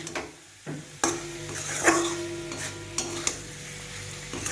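Okra being stirred with spice masala in a pan over a medium-low gas flame, giving scraping stirs and soft sizzling with a few sharper knocks of the utensil against the pan.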